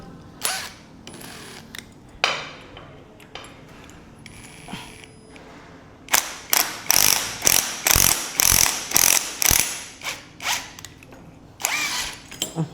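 Impact wrench loosening bolts on a Honda Civic FD gearbox in a workshop, loud close bursts of rattling hammering, a few scattered hits early then a rapid series of short blasts.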